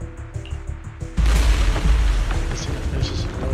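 Explosions in the video game Zenless Zone Zero: after quieter tonal music, a sudden loud, deep blast erupts into sustained rumbling boom and crackle.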